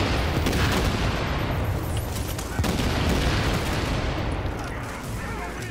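Turret gunfire in The Division, the online shooter, set in its Dark Zone: a dense, steady wash of rapid automatic shots and booms fills the whole stretch at even loudness, with faint voices mixed in.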